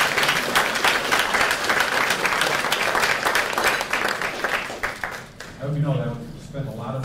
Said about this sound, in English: let's give Chad one more round of applause